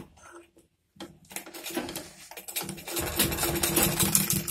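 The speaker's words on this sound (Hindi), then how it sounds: "हम लोग ऊपर साइड से नेक्स्ट साइड से स्टिचिंग लगाएंगे" A sewing machine stitches a zipper onto a track suit, starting after a brief pause and running in bursts of rapid mechanical needle chatter that grow steadier and louder, close up with no talk.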